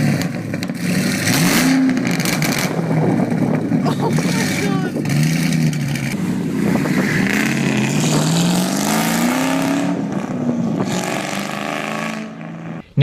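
Ford Mustang fitted with a Pypes Pipe Bomb exhaust, revving hard in loud sustained rises and falls of engine pitch, close up, with excited voices mixed in.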